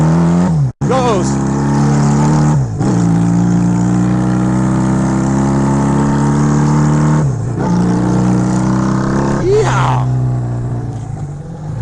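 A 1969 Honda CA175 175cc motorcycle engine revs up loudly and close, its harmonic tone climbing and falling through several throttle blips and gear changes over about twelve seconds, with a brief cut near the start.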